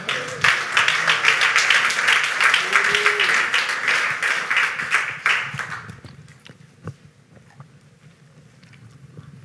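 A church congregation breaks into loud applause after a preacher's call to acclaim the King of Kings, with dense clapping filling the first six seconds before it dies away into scattered claps and quiet.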